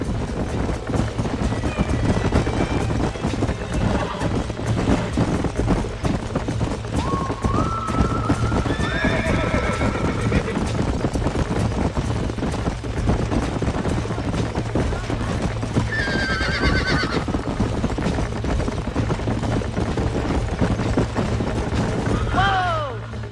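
Horses in the Red Dead Redemption video game neighing and whinnying several times over steady clip-clop hoofbeats, with game voices talking over the ride.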